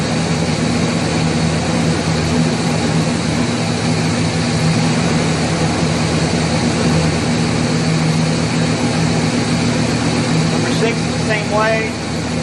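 A Chevrolet 350 V8 with a weak, partially non-contributing cylinder idles steadily and close by, a constant droning hum with a faint uneven note, running alone for the whole stretch.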